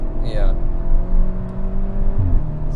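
A 2010 Skoda Octavia vRS tuned to 300 bhp, Golf Mk5-based, accelerating hard, its engine note climbing through the revs with a shift and a fresh pull near the end, heard from inside the car with people talking under the noise.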